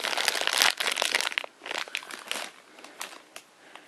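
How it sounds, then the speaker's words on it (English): A small mystery mini blind box card packet crinkles and tears as it is opened up close, loud at first and then trailing off into softer rustles. No one speaks. "I could just open the card,"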